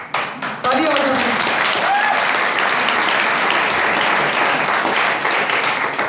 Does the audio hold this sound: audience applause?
yes